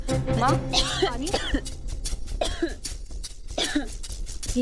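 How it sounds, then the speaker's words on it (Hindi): A woman coughs repeatedly in short bursts amid overlapping talk and background voices in a domestic scene, the coughs loud and close. "ये इतना खांस क्यों रही है?"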